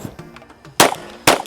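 Two sharp, loud gunshots about half a second apart from a PTR MP5-clone rifle at an outdoor range, each a bright crack with a short decay, heard close with faint background noise between them.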